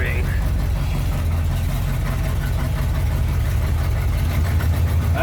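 A 1972 Corvette's engine runs steadily with its choke disabled, a loud, continuous low rumble that holds even throughout with no pauses or voices.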